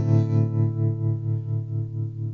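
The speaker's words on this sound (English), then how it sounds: "Lush tremolo." An electric guitar chord run through the lush tremolo of a Zoom G5 multi-effects unit pulses in a steady, even rhythm, swelling and dipping about four times a second as it slowly decays, loud and close with no talking.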